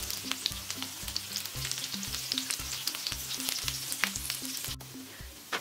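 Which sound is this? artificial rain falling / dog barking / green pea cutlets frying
green pea cutlets frying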